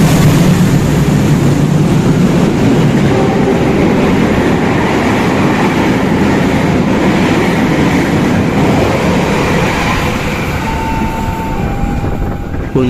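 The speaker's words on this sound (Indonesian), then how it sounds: "Ini dia nih kereta nomor 1 di Indonesia, Argo Bromo Anggrek." Argo Bromo Anggrek express train passing in Indonesia at around 110 km/h, a loud sustained roar and rumble of rolling wagons throughout, close by and steady.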